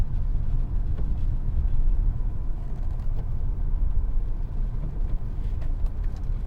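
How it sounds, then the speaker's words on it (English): Hyundai Alcazar 1.5 diesel with manual gearbox driving along, a steady low engine and road rumble filling the cabin with no clear shift events standing out. "Yeah, very nice and soft gear shifts."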